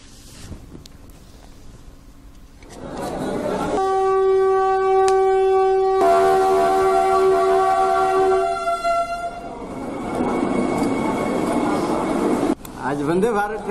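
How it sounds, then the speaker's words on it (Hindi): A Vande Bharat Express arriving at Jasidih station on its trial run: a loud, close rumble of rolling carriages, a long sustained horn blast, then heavy wind noise, with voices in the crowd. "आज वंदे भारत ट्रेन आई और सफल इसका परीक्षण किया गया।"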